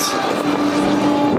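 A bus rolls past in a theme park scare zone, a loud steady engine roar with tire and road rumble, close by and continuous for the whole moment.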